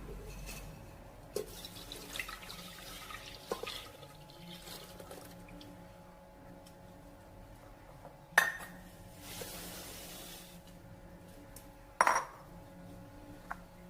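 Ingredients for rice milk payasam, including sugar and milk, go into a pressure cooker in a home kitchen, with soft liquid pours and two sharp metallic clinks of pots against each other.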